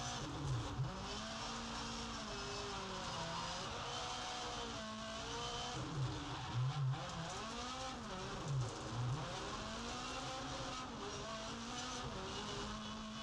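A rallycross car races around the Circuit de Barcelona-Catalunya rallycross track in a racing game, its engine droning and rising and falling steadily through gear changes, with faint tire noise and no talk.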